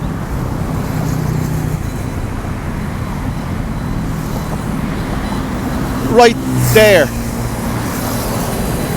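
A car passes in road traffic in Thailand over a continuous roadway rumble, with a brief louder swoosh near the end; someone speaks a few words briefly.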